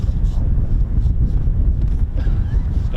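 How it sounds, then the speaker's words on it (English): Strong wind gusts across an exposed high spot near RAF Mildenhall, roaring continuously and loudly against the microphone in a dense, unbroken low rumble. "it's naturally going to be windier than normal up here"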